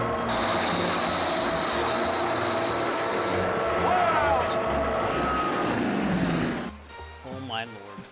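A light propeller airplane's engine drones loud and steady on a landing approach toward a runway, its pitch shifting slightly before the power drops back near the end, with faint voices.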